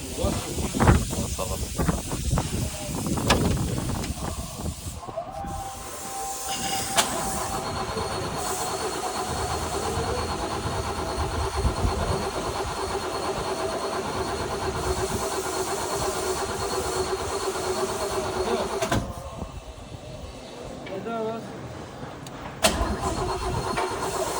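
A 1967 Chevrolet Impala with oil-fouled spark plugs and a timing problem cranks and starts, then runs at a steady loud idle with a rough hissing undertone, close by, as people talk over it at times.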